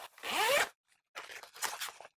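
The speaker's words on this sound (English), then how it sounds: "We've got a vertical zip that runs the entire length of the bag." A vertical zip running the full length of a recycled firefighter-material 24-hour bag is pulled open: one quick rasping stroke, a short pause, then a longer, slightly halting zip, close and clear.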